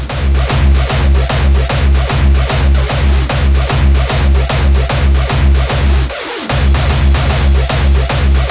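Hardstyle track with lo-fi kick drums, a loud, steady pounding four-on-the-floor beat with distorted, punchy kicks under a dense, gritty layer, briefly dropping out near the end before the kicks return.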